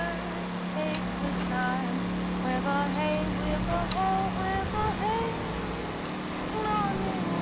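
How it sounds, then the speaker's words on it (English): A car engine idles and revs in the L.A. Noire video game, a steady droning hum that sounds stuck in one gear, with faint squeaky tones drifting over it throughout. "No, I like the sound of his freaking engine."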